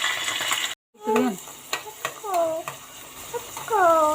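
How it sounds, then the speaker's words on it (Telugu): Onions frying in a home kitchen pan, a low sizzle under stirring scrapes, with a voice and other chatter breaking in, and a brief silent dropout near the start. "ఉల్లిపాయలు ఎగుతున్నాయి కదా"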